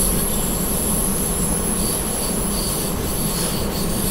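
A train on the Mittenwaldbahn route in Train Simulator 2018 rolls along with a constant loud rumble and a sustained high metallic wheel squeal, steady throughout with no pauses.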